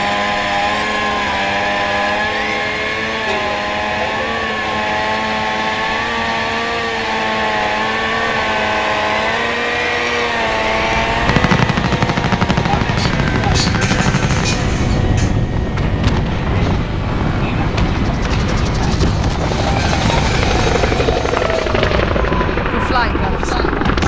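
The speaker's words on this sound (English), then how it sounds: "Alex, fly to the helicopter." A helicopter in Call of Duty: Modern Warfare hums with a steady drone and rising and falling engine tones, then louder rushing, rumbling noise takes over in the second half.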